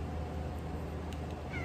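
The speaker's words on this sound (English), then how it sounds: "A cute, adorable cat." A small cat gives a faint, brief meow near the end, against a steady, quiet indoor background hum.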